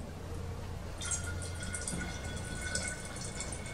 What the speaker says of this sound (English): I might put some more water